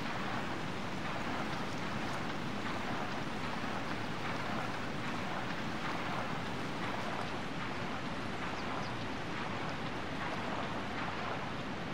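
In the Tomb Raider 3 game, a boat pushes up river rapids in a gorge, and rushing water and engine wash roar in a constant, dense hiss with no voices.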